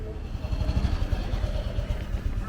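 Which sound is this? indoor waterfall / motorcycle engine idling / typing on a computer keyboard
motorcycle engine idling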